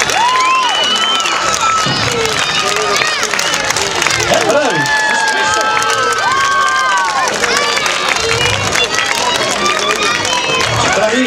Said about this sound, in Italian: Spettacolo, ragazzi, bravi, meritato applauso